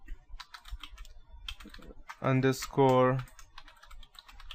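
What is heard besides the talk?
typing a command on a computer keyboard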